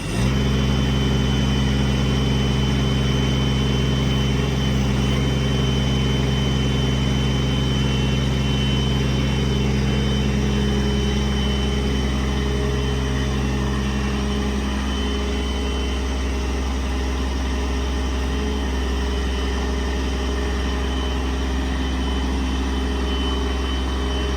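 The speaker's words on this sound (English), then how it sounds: "when you stop and let it sit for a minute, that idle will back down like it just did" A 2016 Ford F550 diesel mechanics truck idles loud and steady while powering a Palfinger 8k crane, its low rumble dropping to a lower, smoother idle partway through, with no talking.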